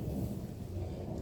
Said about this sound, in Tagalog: Umuulan na naman, no?